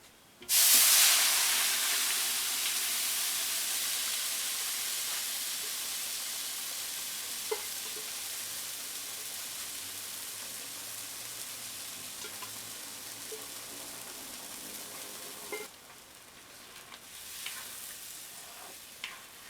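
A sudden loud sizzle as meat stock hits peanuts frying in a hot pan, settling into a steady frying hiss that slowly fades, with a brief stir near the end.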